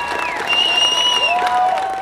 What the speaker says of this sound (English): How about a nice round of applause for a fellow American?